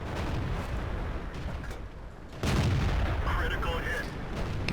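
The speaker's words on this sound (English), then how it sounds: "I'm bouncing a lot of shots off this very thick turret" Booming tank cannon fire and heavy explosions from a World of Tanks battle featuring a Sherman Jumbo, dense and loud, with a sharp new blast midway.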